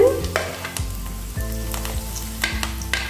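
Carrots, beans, capsicum and onion sautéing in a pan, a close, continuous sizzle with scraping stirs and clinks of a utensil against the pan.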